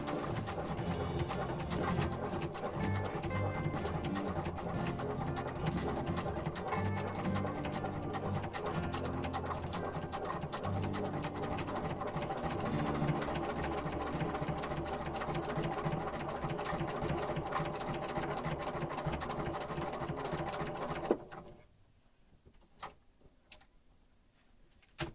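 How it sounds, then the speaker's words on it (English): A sewing machine runs a steady, continuous stitch for about twenty seconds while embroidering down the center of a plague mask design, then stops abruptly, leaving a quiet stretch with a few small clicks. "drop the needle down, and we're gonna just start stitching down the center"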